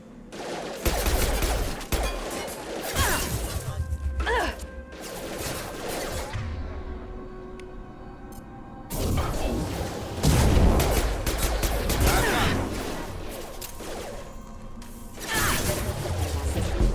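Gunfire from the Mass Effect 2 shooter on Insanity difficulty, with repeated bursts of automatic fire and sharp impacts spread across a noisy combat scene, a lull in the middle and heavy volleys after it, loud and close.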